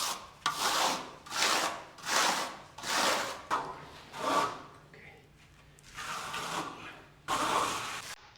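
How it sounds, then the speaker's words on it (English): Mesh is rubbed into wall plaster by hand during a wall and ceiling repair, making about eight steady back-and-forth scraping strokes, close and fairly quiet, each a rasping swell with short pauses between. "he takes the mesh and basically rubs it into the plaster."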